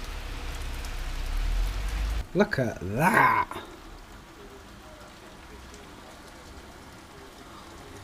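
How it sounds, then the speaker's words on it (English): Heavy rain pours down as a steady, dense hiss. A voice speaks briefly in the middle, and the downpour continues on its own. "That's some heavy rain there."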